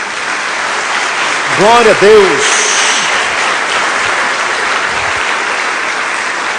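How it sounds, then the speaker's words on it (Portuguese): Church congregation applauding steadily throughout, a dense, loud wash of clapping with a man briefly exclaiming over it near the middle. "Dê uma salva de palmas a Jesus."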